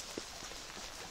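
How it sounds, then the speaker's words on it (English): Steady rain pours down outdoors during a walk in Devon, a dense even hiss of drops with a brief louder patter near the start, continuous and close throughout. "It's pouring with rain."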